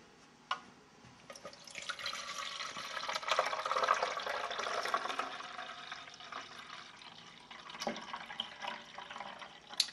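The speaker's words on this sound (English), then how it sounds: "we would like to strain the juice through the strainer and show you how much pulp remained in the juice" Juice poured through a strainer in a juicer comparison test, a steady liquid pour and trickle building over several seconds with a few drips, heard alone and moderately close.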